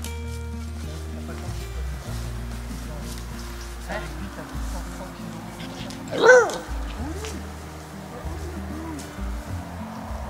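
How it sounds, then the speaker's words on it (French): A sled dog in the Monts d'Arrée lets out a short run of whimpering yelps mid-clip, close by, with people talking over a low background rumble. "Où utilisez votre chien de traîneau là-bas?"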